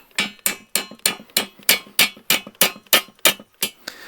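Steady, evenly spaced metallic taps, about a dozen sharp clanks at roughly three per second, made by striking a workpiece with the guard of an angle grinder used as a hammer; close and bright, with no voices.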